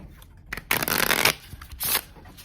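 Two quick riffle shuffles of a deck of waterproof playing cards, each a loud, close, fluttering burst, with a brief pause between them.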